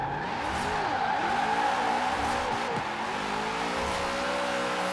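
A Formula Drift Hoonigan car drifts in Forza Horizon 4, its engine droning and revving while the tires squeal steadily in long, wavering screeches, loud and continuous throughout.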